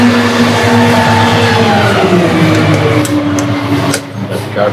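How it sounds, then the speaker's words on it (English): A garbage truck passes along a road outside at a campsite, its engine a loud, steady rumble that swells and then begins to fade toward the end. "Garbage truck going by"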